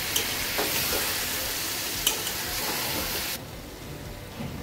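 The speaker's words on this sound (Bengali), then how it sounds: "মশলাটা দিয়ে হালকা নাড়াচাড়া করে নিয়েছি" Chicken sizzles loudly in a pan as spices are stirred in, with a few utensil clinks, then the sizzle drops abruptly quieter.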